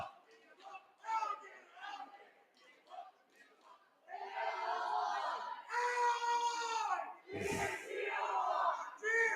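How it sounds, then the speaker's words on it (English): A crowd of Newberry high school basketball fans roars and cheers loudly in the JL DeCook Gymnasium during a boys varsity game against Pickford, rising from scattered shouts into a sustained, echoing swell. "Newberry fans getting into it. Great crowd here at the JL DeCook Gymnasium tonight."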